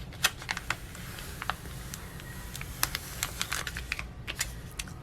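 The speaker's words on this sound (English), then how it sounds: "And then we can peel up the transfer tape." Vinyl craft transfer tape peeled up off Cricut vinyl in a quiet room, a string of small crisp crackling snaps and ticks spread over several seconds, close and fairly soft with no talking.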